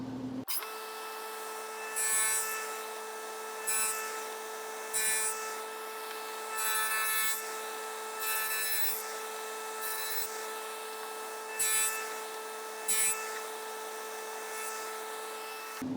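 A table saw runs with a steady high whine while wood is cut in a bench woodworking project. Repeated short bursts of harsh, hissing cutting noise come and go over the constant motor tone, with no talking.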